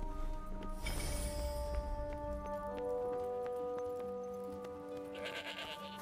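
Hungry sheep in the action game Forspoken bleat over a soft musical backdrop, a few wavering calls with light hoof-like clatter, fairly close and unaccompanied by speech.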